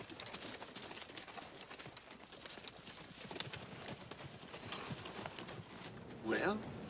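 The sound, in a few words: horses clip-clopping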